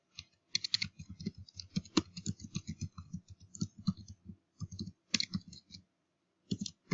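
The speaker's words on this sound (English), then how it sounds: "I'm even going to type that in for you" Typing on a computer keyboard in a quiet room, a close run of crisp clicking keystrokes in uneven bursts with short pauses between words, no talk.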